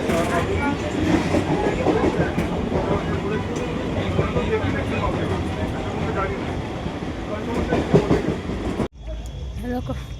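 Train running past with steady rumbling and rattling wheel noise, loud and near, voices murmuring faintly underneath, ending abruptly near the end with a quieter tail.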